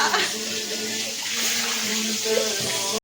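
Water runs steadily from a kitchen tap while a ladle is rinsed, giving a continuous splashing hiss over a low hum, and voices talk faintly in the background.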